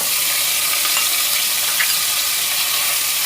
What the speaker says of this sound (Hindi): अब इसको थोड़ा हल्का हल्का भूनेंगे